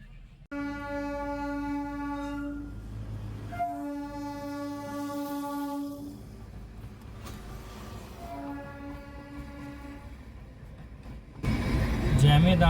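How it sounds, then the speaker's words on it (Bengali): A toy train on a mountain railway near Kurseong and Dowhill sounds its horn in several long, loud blasts while passing close by, with engine rumble underneath and a burst of noise at the end. "জ্যামে দাঁড়িয়ে দাঁড়িয়ে আমাদের আগে টয় ট্রেন চলে গেল।"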